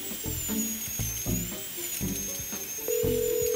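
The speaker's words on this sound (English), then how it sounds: "I'm not surprised you can't hear me. It's because you're drilling." A drill running in a neighbouring flat, heard late at night as a steady, fairly loud whine with rhythmic pulsing bursts, rising to a sustained tone near the end, with no talk over it.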